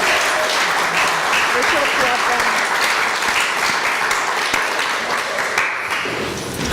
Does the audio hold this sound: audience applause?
yes